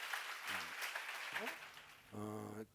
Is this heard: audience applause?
yes